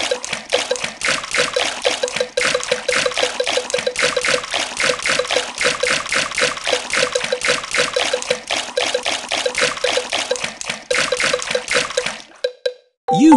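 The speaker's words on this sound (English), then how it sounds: "Peppa and George love splashing in the pool." Water splashing in a Peppa Pig swimming race video game, a steady, busy run of bright splashy trickling that continues for about twelve seconds, then cuts off near the end.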